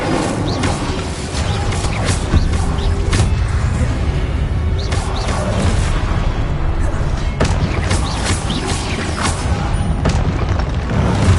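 The Incendio fire spell fires in the video game Hogwarts Legacy, throwing out several heavy booming bursts over a continuous rumbling game soundscape.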